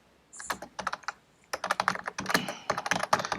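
Rapid typing clatters on a computer keyboard, with close, crisp keystrokes coming in quick bursts and a short pause before the tapping resumes even faster.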